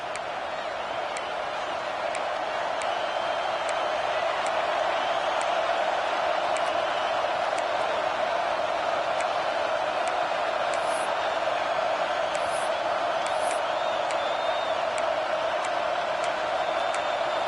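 A home stadium crowd at a Washington vs Oregon college football game roars in a dense, sustained wash of cheering that holds steady throughout, with no voices standing out.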